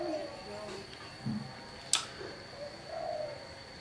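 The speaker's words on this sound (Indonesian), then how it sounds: "dunia perkutut teman-teman ya" A zebra dove gives soft low coos close by, a few short phrases spread over several seconds, with a faint steady tone and a sharp click in the background.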